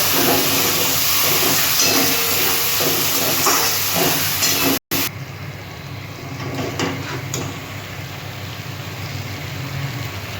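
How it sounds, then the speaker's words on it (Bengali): A cashew, fennel, ginger and green chili spice paste sizzles in a hot pan, a loud, steady frying hiss that fills the first half, then drops after a brief break to a quieter, continuing sizzle. "মশলাটা আমি কষিয়ে নেবো এবার"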